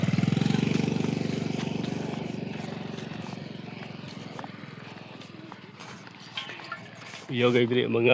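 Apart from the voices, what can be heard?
motorcycles without plate numbers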